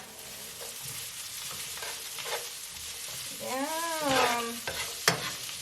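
Chopped celery sautés with onions in an oily pan, a close steady sizzle broken by stirring scrapes, with a brief spoken word and a sliding vocal sound near the end.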